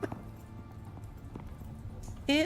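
A horse's hooves clop on the floor inside a house in the survival game Icarus, a few scattered thuds over a low humming ambience, ending in a brief louder tonal call.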